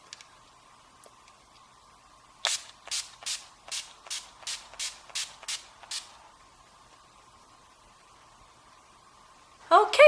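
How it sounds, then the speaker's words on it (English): A run of about nine quick, hissing bursts of NYX Dewy Finish setting spray in steady rhythm, close by, over a faint hum; a brief voice comes in at the very end. "I think I'm going to try out NYX's Dewy Finish Setting Spray."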